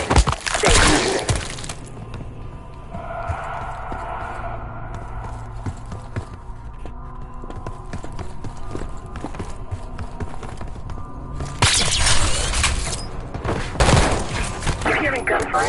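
Gunfire in Call of Duty Black Ops 6, loud bursts of shots and impacts at the start and again near the end, with game ambience and voices talking in between.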